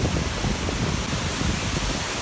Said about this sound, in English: that area over there with the big waterfall